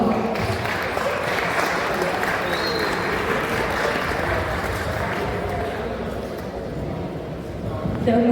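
An audience at a talk on autism inclusion in cosplay at an anime convention applauds, a dense, sustained wash of clapping lasting about eight seconds at steady loudness, slightly swelling at the end.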